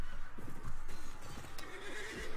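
A horse neighs repeatedly in the Mount & Blade Floris video game, whinnying over a steady outdoor game background with faint hoofbeats, fairly loud and continuous for the whole span.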